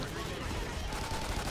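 Gunfire from the video game Nightfall, a dense continuous rattle of rapid shots at steady loudness throughout, with players talking over it.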